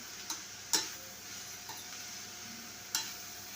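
Ginger and garlic sizzle in a cooking pan, a faint steady hiss broken by a few sharp ticks and clicks from stirring.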